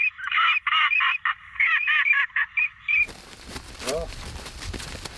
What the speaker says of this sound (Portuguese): gravações de cantos reais de patos é uma maneira confiável de atraí-los